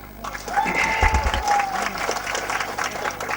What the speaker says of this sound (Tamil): சிவகாசி இந்த படத்துல அவருக்கு ஒரு நல்ல கரகோஷம் கொடுங்க